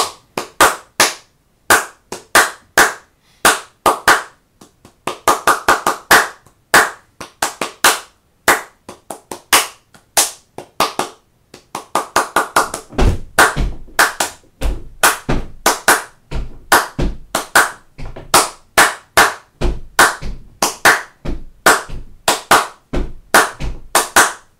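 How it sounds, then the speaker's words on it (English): A single person claps hands sharply and close by in pep-rally fashion, loud crisp claps in steady bursts and rhythmic patterns that speed up and cluster, with brief pauses between runs. "I'm going to clap like I would at a pep rally."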